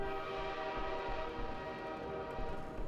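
A train in the Half-Life 2 video game rumbles steadily with a sustained horn-like tonal drone over low rolling noise, continuous and fairly loud throughout.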